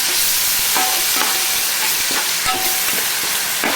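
Onion, green chili and spices frying in a pan for a crab curry: a loud, constant close-up sizzle broken by occasional scraping stir strokes.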